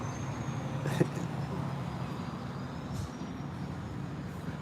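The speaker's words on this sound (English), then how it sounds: "This car is driving by at the same time as the motorhome." A car drives past on a road alongside a motorhome, a steady moderate rolling hum of tyres and engine with traffic noise around it and no talk.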